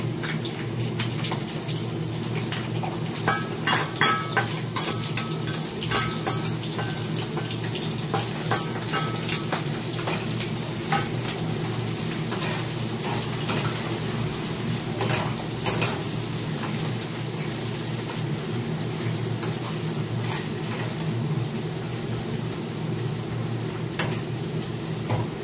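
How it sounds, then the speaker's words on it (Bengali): Onion and green chilli frying in a pan, a steady, even sizzle with scattered crackles and pops, close and continuous throughout with no talking. "পেঁয়াজ কাঁচা লঙ্কা এখানে ভাজতে দিয়ে দিয়েছি"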